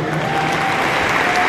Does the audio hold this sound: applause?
yes